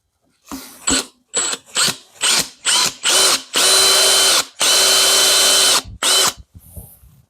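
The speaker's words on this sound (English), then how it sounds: "we can just drill all the way through and have a good hole for the locking pin" A drill bores a hole for a locking pin on a SAJO milling machine, running in a string of short loud bursts, then two longer sustained runs and a final brief burst, close up with no talk.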